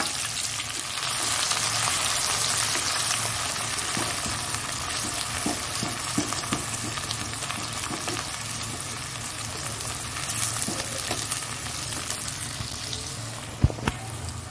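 Onions sizzle and fry steadily in a hot pan over cumin and dried chillies for a Bengali fish curry, a continuous close crackle with occasional stirring clicks and no talk.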